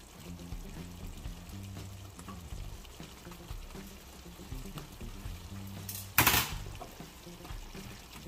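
Cooked pasta noodles stirred into sauce in an Always Pan or Ninja Possible Pan: soft, wet squelching and scraping strokes at a quiet level, with one brief louder clatter near the end.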